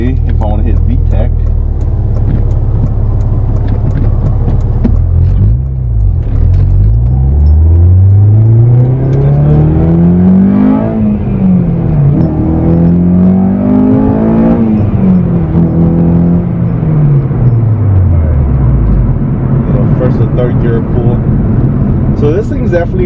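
A Honda Civic Si accelerates from inside the cabin, the engine pitch rising and falling as the driver shifts gears around 3000 rpm, with a steady road rumble underneath and someone talking over it.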